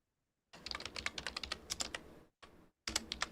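Rapid clacking keystrokes on a computer keyboard, close and fairly loud, in quick irregular bursts with a short pause before a final flurry; nobody speaks.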